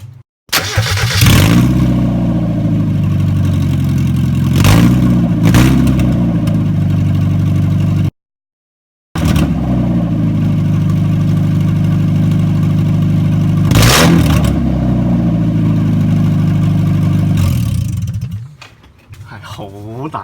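A Mazda MX-5 with its exhaust removed, running on straight headers, cranks and fires up, then barks through loud, raw revs that rise and fall, with a brief cutout before it revs again and settles near the end.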